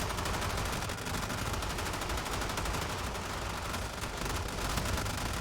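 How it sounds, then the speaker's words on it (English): A Gorgon heavy gun in Warframe roars in one unbroken stream of rapid fire, dense and loud for several seconds, with no let-up and no speech over it. "Man, you can hear that gun's gone crazy."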